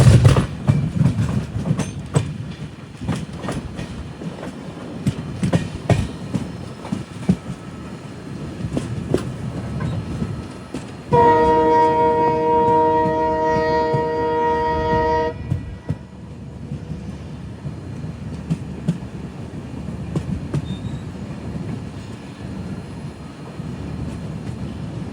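A Humsafar Express train rolls through a sharp curve, its steady rumble and rail clatter continuing throughout, with a sustained horn blast sounding midway for several seconds.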